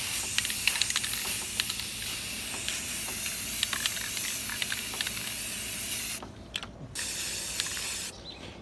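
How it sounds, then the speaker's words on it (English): Spray paint hisses onto metal near a grill outdoors in a continuous close-up rush, broken by short rattles and clicks and by brief pauses as the nozzle is released. "you're overspraying on your grill"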